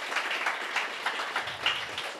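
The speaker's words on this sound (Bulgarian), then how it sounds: "аплодисменти за Ники" Applause for a presenter at a Sofia crypto meetup, a small audience clapping in a light, brief patter at moderate volume.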